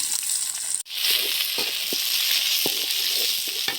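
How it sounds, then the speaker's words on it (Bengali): Onion hits hot oil in a pan with a sudden onset, then sizzles loudly and continuously, with occasional pops and stirring knocks. "প্রথমে দিয়ে দিব হচ্ছে তেল রাখছি পেঁয়াজ দিয়ে দিচ্ছি"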